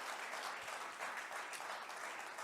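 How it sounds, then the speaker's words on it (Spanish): A church congregation at a Spanish-language service claps together, a dense, even wash of applause that carries on steadily from start to end, filling the room with no voice heard over it. "Fuertes aplausos a nuestro Dios."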